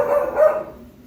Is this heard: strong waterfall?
no